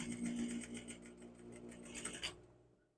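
A sewing machine stitches a small piece of an old shirt collar, running in a steady, close mechanical whir with rapid needle clatter for a couple of seconds before stopping.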